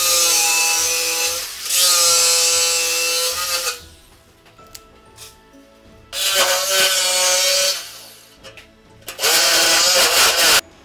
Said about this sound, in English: you saw me cut one out with the jigsaw